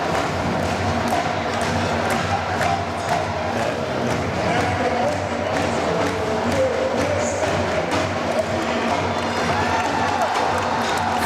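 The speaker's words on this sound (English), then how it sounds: "Crowd getting into the ball game" A crowd at a high school girls' basketball game in a gym makes steady noise, cheering and clapping as a dense, continuous roar, mixed with scattered thumps and what may be band or commentary voices underneath.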